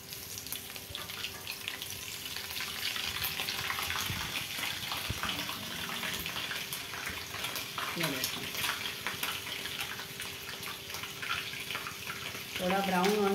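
Bite-sized snacks drop into hot oil and fry with a continuous bubbling sizzle, close and moderately loud, with small clinks and stirring noises and a brief louder burst near the end.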